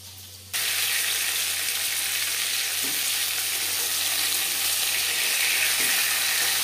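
Pieces of silver carp fry in a shallow layer of oil, a loud, dense, steady sizzle that starts abruptly and holds evenly, close up, with a couple of faint clinks underneath and no talking.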